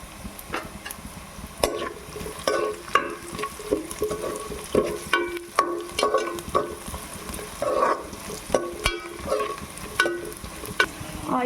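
Onions frying in a pan for mung bean sambar, a soft sizzle broken by repeated scraping and stirring strokes from a spoon, close by and without talk.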